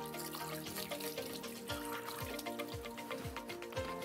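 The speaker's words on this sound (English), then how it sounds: "So I'm gonna rinse the bowl here" Water runs and splashes as a bowl is rinsed under a kitchen tap, a steady close stream with light sloshing and trickling, with no voices.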